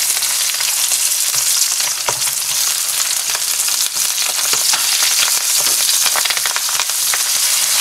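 Curry leaves frying in oil with lightly browned garlic and ginger for Kerala-style mango pickle, stirred in the pan; a loud, dense, continuous sizzle with scattered crackles and pops, close up.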